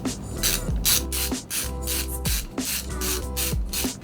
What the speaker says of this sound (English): now we'll just go ahead and unscrew all the little screws all the way around.